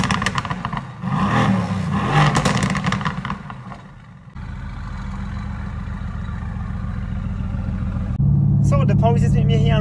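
A Mercedes-AMG GT S with a Stage 1 tune runs through a sound check, its engine idling and revving in loud bursts with a shift partway through, and a steadier, louder engine tone at the end.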